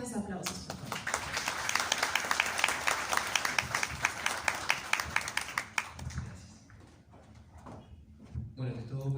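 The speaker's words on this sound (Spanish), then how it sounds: "Lo recibimos con fuertes aplausos, por favor." An audience welcomes a speaker at a school talk with applause, distinct close claps rising then fading out, while voices are heard alongside.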